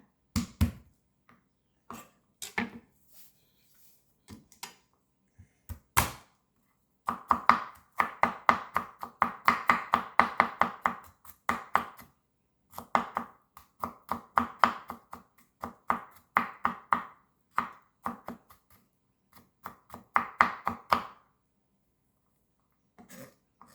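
Garlic being chopped on a cutting board for a Thai mixed-vegetable and pork stir-fry, a long run of quick, sharp knife strikes in bursts with short pauses, close and clear with no talking.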